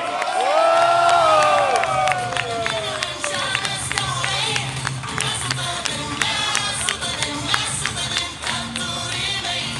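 At a basketball cup awarding ceremony, a crowd cheers and claps with a busy wash of clatter and shouts, and a voice rises briefly over it at the start.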